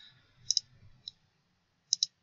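Sharp computer mouse clicks while setting up a betting strategy in software: a quick double click, a single click, then another quick double click, crisp and close over a faint low hum.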